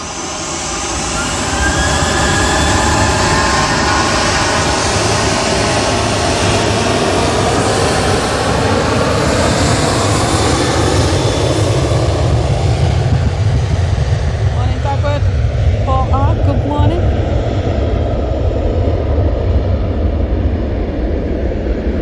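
A Jet2 airliner departs Manchester Airport bound for Malta, its jet engines building to a loud, sustained roar with a shifting tonal whine that slowly recedes, and people talk faintly nearby.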